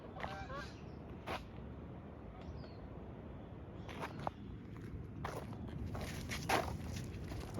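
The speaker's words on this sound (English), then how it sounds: "There goes the geese." Geese honk in a few scattered calls as a flock passes overhead, fairly distant against steady outdoor background noise, with faint footsteps and brief speech nearby.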